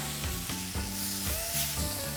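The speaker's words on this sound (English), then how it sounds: "Let's flip that bacon." Bacon sizzles in a pan beside a burger and an egg, a close, crackling fry. A few spatula scrapes and thumps break through as the strips are flipped.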